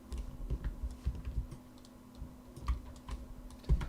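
Keyboard typing with irregular clicky keystrokes, fairly close and steady over a faint low hum, no voices.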